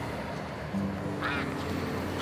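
A duck quacks once in a short call over steady background noise, fairly close and clear, in an otherwise wordless moment.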